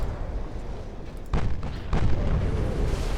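Torpedo hits exploding against a heavy cruiser in the naval game Ultimate Admiral: Dreadnoughts, deep rumbling booms over continuous low battle noise, with two sharper blasts in quick succession.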